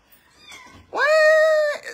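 A house cat lets out a single clear, drawn-out meow, close and loud, rising at the start and holding steady before fading, with faint murmuring sounds just before it.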